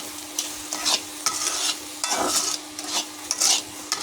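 Carrot halwa with sugar being stirred in a pan, heard as repeated close scraping and sloshing strokes at an irregular pace over a soft sizzle, with no talking.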